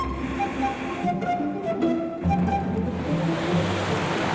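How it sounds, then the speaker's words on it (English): Ocean waves break against a grounded Antarctic iceberg about a kilometre offshore, a steady rushing wash with surges of surf and crashing water, no talk. "the waves are starting to break it up"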